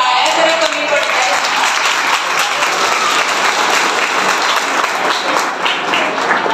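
An audience applauds a prize winner at a children's cooking competition, dense, loud, unbroken clapping from a large crowd that keeps a steady level.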